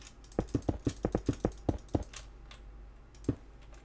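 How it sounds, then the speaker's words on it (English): Rapid, aggressive clicks of a computer mouse button while playing Minecraft, a quick burst of about ten close taps, then a few scattered clicks in a quiet room. "You could probably hear my aggressive clicking of the mouse button."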